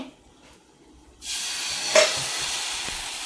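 Jowar dosa batter poured onto a hot pan bursts into a loud, steady hiss and sizzle after a quiet start, continuing strongly to the end.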